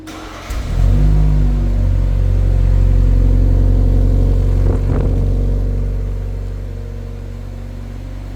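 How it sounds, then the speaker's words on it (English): A BMW X7 SUV engine remote-starts, turning over and settling into a steady, close idle hum, briefly revving up before easing slightly lower toward the end. "there's a X7 over there that just remote engine started"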